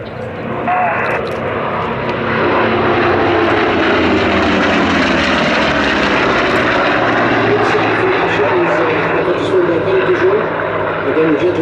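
Vintage Second World War-era aeroplanes make a formation pass at the Sywell Airshow, a loud, steady, broad engine roar swelling over the first couple of seconds and holding strong throughout.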